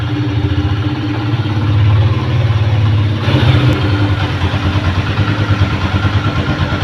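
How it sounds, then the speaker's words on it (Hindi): A 2014 Grace 70 cc motorcycle idles steadily through its silencer exhaust, a loud close low thrum with a fast regular pulse, rising slightly in the middle before settling back to a steady idle. "सिलेंसर का साउंड भी माशाल्लाह बहुत प्यारा है"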